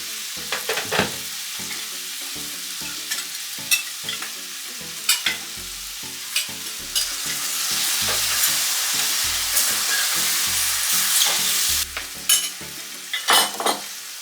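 Jamaican-style curry coconut shrimp sizzles steadily in a pan, loud and close. A utensil stirs and scrapes through the sauce in repeated knocks.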